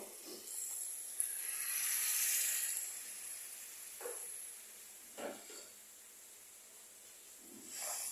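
Hot water from a kettle pours into a hot pan of cabbage curry and gives a sharp hiss that swells and fades over a few seconds. Some soft clinks and stirring follow in a quiet kitchen.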